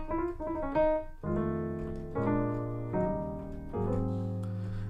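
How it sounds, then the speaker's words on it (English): Sampled electric piano chords from Logic's stock piano played in a steady sequence, each sustained and ringing out before the next, with a brief lighter melodic figure at the start. "the stock piano inside of Logic"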